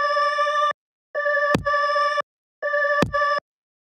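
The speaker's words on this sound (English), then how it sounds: "So you'll hear it get sidechain here." A synth loop in Ableton Live with sidechain compression: sustained chord bursts repeatedly duck and cut out around punchy kick hits, giving a pulsing, pumping rhythm with no talking.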